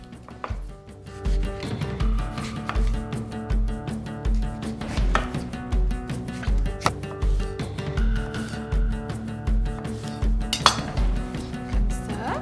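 Peaches being cut for a bread pudding, a rhythmic run of dull knife chops against a board and bowl over a low background hum, close and steady with no speech.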